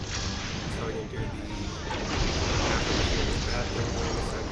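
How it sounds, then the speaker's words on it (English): Cannons firing in a Final Fantasy XIV dungeon, a dense continuous rumble of heavy booms blending into a roaring wash with occasional sharper blasts. "Okay, cannons."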